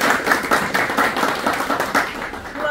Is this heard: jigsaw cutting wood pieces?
no